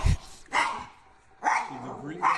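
A pet dog growls and lets out several sharp barks in short bursts about a second apart, close and fairly loud, with some human voice mixed in between.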